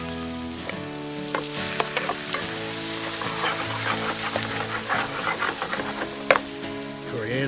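Onions and garlic sizzle steadily in a hot pan for a fish curry, a continuous crackling fry with scattered sharper pops and clinks of stirring, moderately loud and close with no talk.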